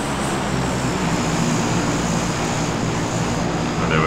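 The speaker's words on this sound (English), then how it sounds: "Let's see what this plane drops." A propeller airplane flies overhead in the PUBG battle royale video game, a loud steady engine drone filling the scene for several seconds without any talking.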